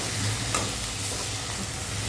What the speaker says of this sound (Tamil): வெங்காயம் நல்லா வதங்கிட்டு, வெங்காயம் வதங்கிடுச்சு. அடுத்து தக்காளி போடலாம்.